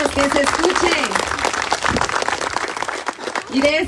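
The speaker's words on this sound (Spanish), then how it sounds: "Fuerte los aplausos, que se escuche" Sustained crowd applause fills a political party assembly, dense and steady throughout, with voices calling out over the clapping.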